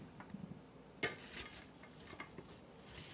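Honey being stirred into a baklava apple pie filling in a bowl, a soft sticky scraping and clinking that starts abruptly and carries on at a steady, close, moderate level with no talk.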